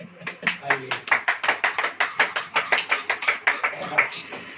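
A church congregation claps hands together in a fast, steady rhythm of roughly twenty sharp, loud claps, close by and continuous, with a murmur of voices underneath.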